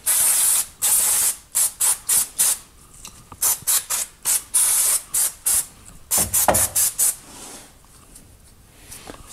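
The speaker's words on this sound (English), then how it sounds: "Here's your brake clean that you get with the Detroit axle kit." Brake cleaner from a Detroit Axle brake kit is sprayed onto a wheel hub during a brake job: loud, close aerosol hisses in many short bursts of uneven length, with no talking.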